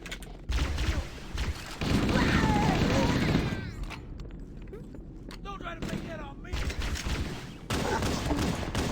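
Rapid pistol fire and game action from Halo: Combat Evolved crackle loudly in bursts, with someone talking over much of it.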